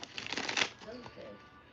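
Tarot cards are shuffled close by in a quick riffling burst that fades within a second, followed by soft talk.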